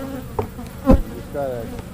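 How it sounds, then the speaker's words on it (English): Honeybees buzz close around an open beehive while the beekeeper works the frames, with sharp passes of individual bees droning in and out over a steady hum. "the bees are chasing them"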